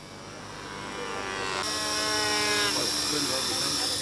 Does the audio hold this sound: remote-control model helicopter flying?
yes